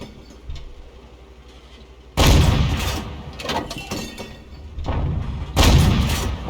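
A German VK 3001 (H) heavy tank prototype's main gun fires in World of Tanks, two heavy, close blasts with rumbling tails about three seconds apart, followed by lesser battle noise.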